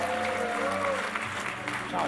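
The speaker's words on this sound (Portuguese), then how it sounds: "Alguém aplauda ao Senhor." A church congregation applauds in a steady wash of clapping while a voice carries on over it.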